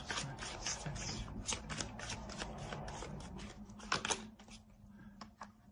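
Tarot cards shuffled and handled during a reading, giving a run of crisp, close riffling flicks and snaps with a brief louder slap near the end, no voice over them.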